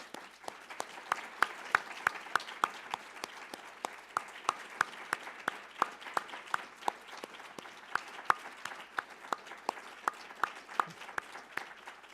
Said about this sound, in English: Join me in a round of applause for Amanda Judge.